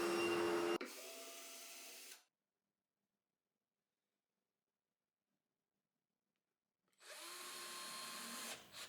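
A power tool buzzes at close range while cutting a groove into a wooden plunge-system part for a homemade drill press, lathe and router table, running steadily, then falling silent for several seconds before starting again.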